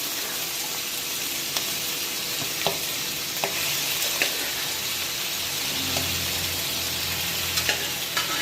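Boiled lamb lung, cooked with turmeric, dropped into a hot pan for a gravy, sizzling steadily with scattered clinks and stirring scrapes, close and fairly loud, no speech.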